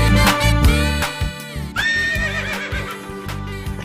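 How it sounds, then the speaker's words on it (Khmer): A horse whinnies loudly and close, a long shaking neigh that rises into a high quavering call partway through, with faint hoof clip-clop beneath it. "Horse."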